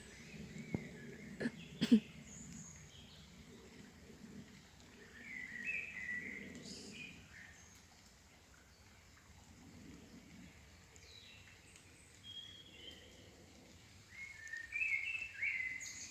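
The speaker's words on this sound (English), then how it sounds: "when you listen to the birds, you realise that they are perfect and complete beings" Scattered birdsong and chirps in a quiet forest, soft and intermittent, with a few brief knocks early on and some calls fairly close.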